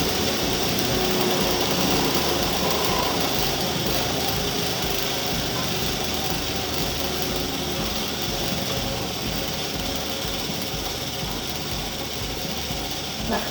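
An AC motor runs steadily on a lab bench while resistance is raised toward 50 ohms, its continuous whirring hum and rotor drone filling the clip, loud and close, with no clear break.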